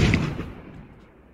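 Single gunshot in an indie horror video game, a sharp loud boom with a brief rumbling decay that fades within about a second, heard alone.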